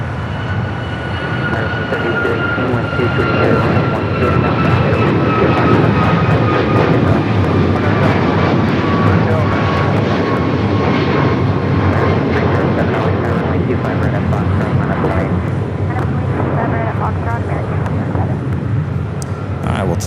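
Heavy jet airliner arriving at LAX, a loud close roar with whining engine tones that slowly fall in pitch as it passes, with talk over the noise.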